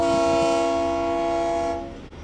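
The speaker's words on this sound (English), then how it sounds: "You can hear that horn, it's certainly loud." A loud, sustained horn from Santa Fe 108 locomotive blares close by in one long chord, then cuts off abruptly near the end.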